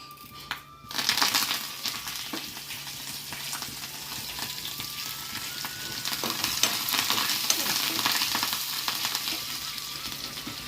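Curry leaves hit hot oil with a brief splash, then crackle and sizzle continuously and loudly for several seconds as a tempering for a dal with mango and fenugreek leaves.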